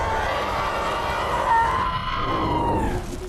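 A mutated bear from the film Annihilation screams with a human victim's voice, a loud, strained, wavering howl that holds steady and swells near the middle before tailing off.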